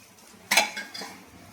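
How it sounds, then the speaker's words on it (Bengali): Ginger and green chilies stirred in a pressure cooker, one sharp clatter of a metal spoon against the pot followed by a couple of softer scrapes, close and brief. "এই যে কুকারের মধ্যে আদা দিয়ে দিলাম, দিয়ে আর দুটো কাঁচা লঙ্কা দিয়ে দিলাম, বেশ করে কি করলাম, ফ্রাই করছি"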